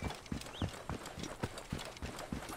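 Horse hooves clip-clop steadily in the video game Assassin's Creed Origins, a regular rhythmic series of soft hoof strikes heard alone at low volume.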